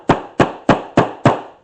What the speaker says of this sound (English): Remember the soft hammer,